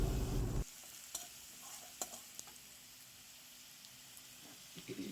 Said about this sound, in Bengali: আলুগুলোকে একটু লাল লাল করে ভাজলে তরকারির স্বাদ আরও